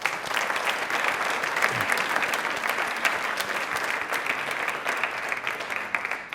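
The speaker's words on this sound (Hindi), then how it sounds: "तो तालियां प्लीज इनके लिए जोरदार वाली होनी चाहिए प्लीज।" Studio audience on a Rajasthan television quiz show applauds loudly for a woman, a steady, full wash of many clapping hands with occasional sharper claps standing out, lasting several seconds.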